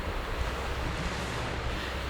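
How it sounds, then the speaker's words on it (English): Sea waves wash along the seawall between Dawlish and Teignmouth in Devon as a continuous, rushing surf mixed with gusty wind noise at the microphone. "It's lovely to hear the sound of the waves"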